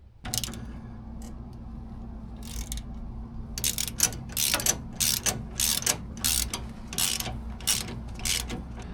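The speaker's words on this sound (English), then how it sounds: "Got the drag link in. This is torqued." A ratcheting torque wrench tightens the drag link on a Ford Super Duty steering setup, producing repeated bursts of rapid close clicking with short pauses between strokes and a low background hum.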